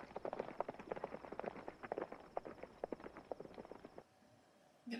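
Horse hooves clip-clop in quick, uneven beats, the sound of a movie playing in the background, fairly faint, stopping near the end.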